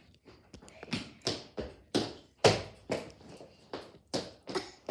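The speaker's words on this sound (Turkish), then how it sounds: "Televizyonun önünde zıpla hadi." A young child jumps on an indoor floor in front of a TV, with about ten thudding landings at an uneven, bouncy rhythm, heard close and without talk.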